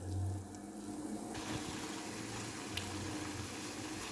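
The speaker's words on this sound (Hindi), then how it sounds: "ये देखिए उबाल अपनी चरम सीमा पर है, तेजी से ये जो उबाल आ रहा है पानी" Plain water comes to a vigorous rolling boil in a pot, giving a steady, dense bubbling hiss at close range that carries on without a break and with no talking over it.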